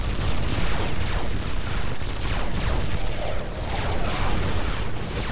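Turrets fire nonstop in the Space Siege video game, a loud, dense fusillade of rapid gunshots and booms that carries on without a break across the whole clip.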